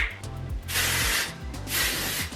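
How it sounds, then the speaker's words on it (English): Two long hissing bursts of hair spray, each lasting about half a second, close to the mic with a brief pause between them, used on curled hair. "Let's give this bad boy a spray."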